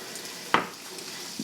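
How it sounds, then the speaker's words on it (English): Chicken fat gives off a soft, steady sizzle as it starts rendering in a pan, low and close, with one sharp utensil clink partway through. "I can hear it starting to sizzle up"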